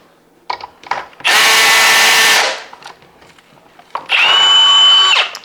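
A power drill backs screws out of a Whelen Edge 9M mini strobe bar in two loud close whirring bursts separated by brief clicks and handling noises.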